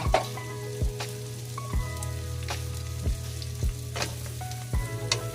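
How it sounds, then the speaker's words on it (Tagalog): Garlic sizzles steadily in hot oil in a pan as it browns, a constant frying hiss broken by several sharp clinks and scrapes of a utensil stirring. "So, ipa-light brown natin yung bawang muna."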